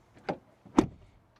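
Two door slams on a 2026 Audi Q5 SUV, a lighter thud followed by a firmer, deeper one, close by and moderately loud with short decays and no voices.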